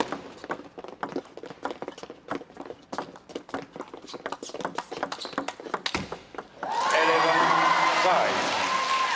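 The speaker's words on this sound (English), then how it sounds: "Maverick Arena applauds." An arena crowd breaks into loud, sustained applause after a game point in a women's table tennis quarterfinal. Sharp ball taps and scattered claps come first, then the dense clapping swells and holds.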